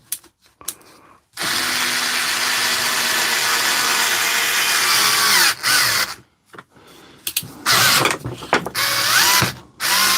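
A DeWalt cordless drill runs in long loud bursts with its ratchet clutch set low and slipping, giving a buzzing mechanical whir broken by short pauses and stop-start pulses near the end.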